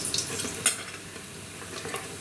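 Mustard seeds and cumin fry in hot oil for an egg fried rice base, giving a steady close sizzle with scattered crackles and a brief louder pop, with no talking.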